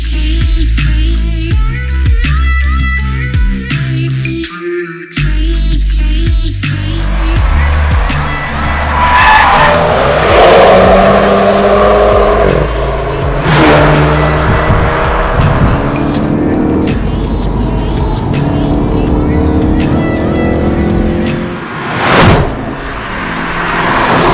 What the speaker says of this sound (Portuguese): Launch Control. Vamos lá com o Golfão.